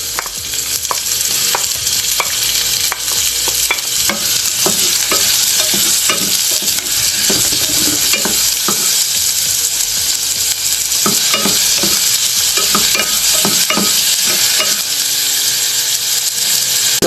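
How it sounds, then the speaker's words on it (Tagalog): Onion sautéing in a pan while making monggo with alugbati, a loud continuous sizzle with steady scraping and stirring strokes throughout, close and alone with no talk. "Nasuti ng ating onion"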